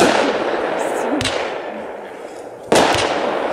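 Black Hat Neon Mundschutz firework compound battery of 170 shots firing outdoors at a fireworks show, with two sharp loud bangs standing out above a steady crackling, hissing wash of explosions.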